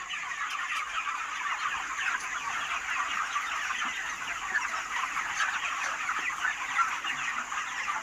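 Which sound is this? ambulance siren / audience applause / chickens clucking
chickens clucking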